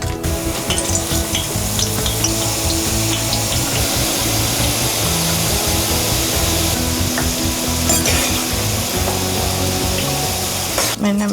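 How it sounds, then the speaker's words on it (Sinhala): Eggplant pieces frying in hot oil give a loud, steady sizzle that runs the whole time, with stirring scrapes and some brighter crackles near the end. "අපි රත් වෙච්ච තෙල් වලට වම්බොටු ටික දාලා බෙද ගන්නවා"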